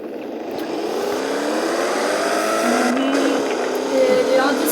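A car in the Roblox game Driving Empire drives and revs steadily, with a loud, continuous engine drone whose pitch slowly rises, and a voice heard faintly underneath.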